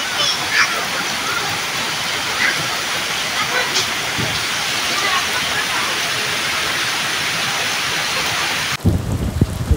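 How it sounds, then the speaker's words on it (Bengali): Heavy rain pouring steadily on a rainy day, a dense, loud continuous hiss with occasional heavier splashes, ending with a brief burst of close handling noise. "এই যে দেখুন বৃষ্টি পড়তেছে"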